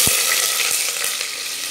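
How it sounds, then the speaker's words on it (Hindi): Chopped onion and a pinch of asafoetida frying in hot oil, a steady loud sizzle with a few soft stirring knocks near the start, close and without voices. "अब इसमें हम जो है 1 पिंच हींग डाल देंगे। एक छोटी कटी प्याज डाल देंगे।"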